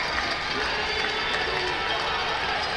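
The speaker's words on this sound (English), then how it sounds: "Listen to this crowd." Basketball arena crowd roaring at clutch time of a Windsor Express versus London Lightning game, with everyone on their feet: a dense, steady wash of cheering that stays loud and even the whole time.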